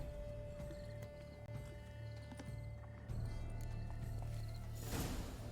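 A unicorn mount in The Witcher 3 trots along with steady game hoofbeat clip-clops, a brief whinny-like burst near the end, over a constant low musical drone.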